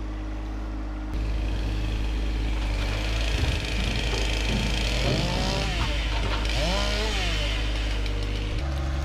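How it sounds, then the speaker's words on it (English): A sub-compact tractor engine drones steadily while its grapple works at a pile of firewood. The engine pitch rises and falls as the hydraulics strain, and the wood gives off brief clunks and scrapes. "I find this firewood hard to pick up with the grapple"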